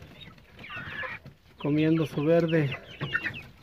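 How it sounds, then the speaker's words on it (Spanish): Chicks eating shelled corn kernels on a farm cluck in short bursts, with a louder run of calls in the middle, close by and mixed with someone talking. "ya se les da los pollitos y los pollitos felices"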